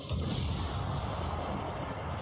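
A dense, rumbling blast of game explosions and gunfire, loud and sustained, with deep low-end boom filling the whole moment.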